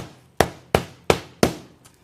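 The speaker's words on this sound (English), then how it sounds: "I'm gonna nail this out" Four sharp hammer blows driving a nail through roof shingles beside a skylight, evenly spaced and close, each with a short ringing decay, then a faint fifth tap.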